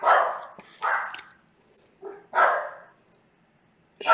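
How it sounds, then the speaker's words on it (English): Dogs bark indoors in a series of sharp, loud bursts with short gaps between them. The barking comes during a baseball card case break, with no talk over it. "the dogs can see outside and bark at everything we move"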